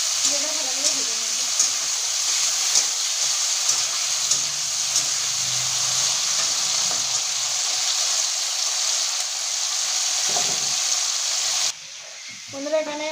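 Ingredients frying in a pan for a village-style Bengali prawn dish make a steady, close broadband sizzle with faint stirring. The sizzle runs unbroken for most of the stretch, then drops away abruptly near the end.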